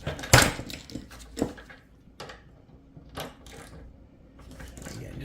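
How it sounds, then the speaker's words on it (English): A ratcheting socket wrench on a 20 mm nut of a portable car lift gives a few sharp metallic clicks and clanks, close and intermittent, with quieter handling noise between them. "I'm going to put my socket on there."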